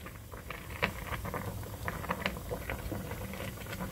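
Spaghetti boils in a pot of water, a soft, close bubbling patter of small irregular pops at low volume with no talking.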